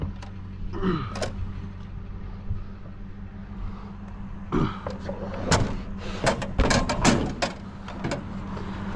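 Heavy cast iron or steel truck doors slide and clatter with scraping rumbles and several sharp bangs, loud and close, clustered toward the end over a low engine hum.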